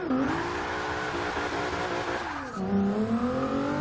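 Race car in the Forza video game launching and accelerating, engine revving high and climbing through gear changes with a brief dip at a shift, loud and close, no talk.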